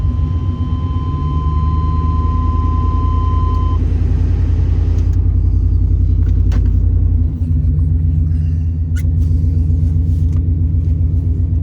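A 1993 Chevy OBS pickup truck engine runs continuously, a loud, steady, deep rumble that holds close and unbroken from start to finish with a slight dip partway through, and no voices.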